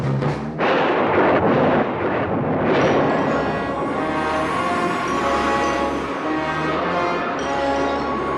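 Thunder from a storm, a heavy continuous broadband rumble with rolling crashes, loud and sustained throughout with no talk.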